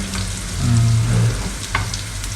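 Small misket köfte meatballs fry in a pan with a steady close sizzle, a brief low hum in the middle and a light utensil tap near the end.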